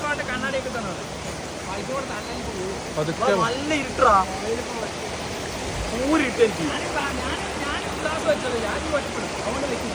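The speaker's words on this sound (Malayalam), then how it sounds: "ഭയങ്കര വഴുക്കലുള്ള വെള്ളച്ചാട്ടമാണ്" A slippery waterfall stream flows with a constant broadband rush of water, while people talk close by throughout.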